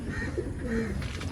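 Low, throaty cooing rolls steadily from young pigeons in a training loft, several overlapping calls, close and unbroken by talk.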